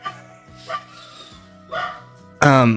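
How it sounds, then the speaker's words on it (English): A pet dog barks at home in a few sharp bursts spaced out over a couple of seconds, the last one louder and closer, with a faint soft whine between. "my neighbor got out of their car, and of course my dog has to bark"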